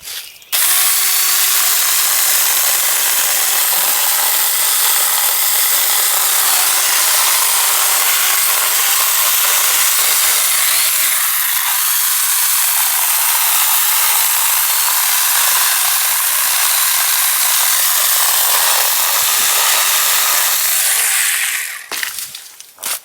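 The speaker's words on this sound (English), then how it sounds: "I'm going to try to cut through the root end of this grapevine that's trying to choke out all these trees" Power saw cuts through the thick root end of a grapevine choking trees, a loud, continuous rasping buzz lasting about twenty seconds with slight dips in pitch as it bites, then stopping.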